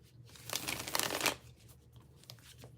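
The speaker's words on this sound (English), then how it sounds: "as I shuffle this deck" Cards being shuffled in a couple of quick riffling bursts, close and crisp, with a low steady hum underneath.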